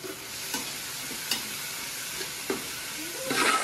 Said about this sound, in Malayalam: തക്കാളി കൂടി ഇട്ടൊന്ന് വരട്ടി എടുക്കണം.